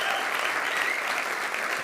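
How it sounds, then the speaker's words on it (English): A conference audience at Apex 2023 applauds in a dense, even wash of clapping that holds steady throughout the short stretch. "You can applaud all you want for that one."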